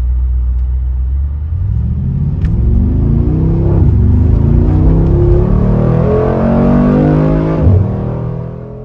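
A Mercedes-AMG G63 with a 4.4 liter engine pulls away from a stoplight, its loud rumbling exhaust climbing in pitch through several rising gear sweeps before easing off near the end, heard up close with no talking.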